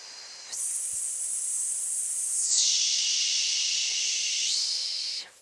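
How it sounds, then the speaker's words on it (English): A forceful, sustained exhale blown out hard during a breath-led squat exercise, a loud, close, airy hiss lasting several seconds that shifts pitch partway through before cutting off abruptly. "So take an inhale, engaged exhale, blow."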